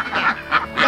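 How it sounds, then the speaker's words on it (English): Farm ducks quack loudly and close by, three raspy calls in quick succession. "The Muscovies have like a hiss sound, and all the different quack quack."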